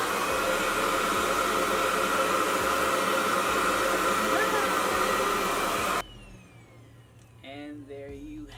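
A RevAir reverse hair dryer roars steadily and loudly while drying natural hair, its broad airflow hiss cutting out abruptly partway through and leaving a quiet room with a few faint voice-like sounds.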